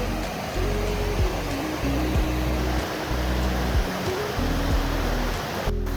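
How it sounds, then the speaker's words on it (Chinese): A steady, loud rush of falling water from a forest waterfall by a small bridge fills the scene, a continuous roar with low rumbling buffets underneath. "一个转弯看到这一个瀑布哎"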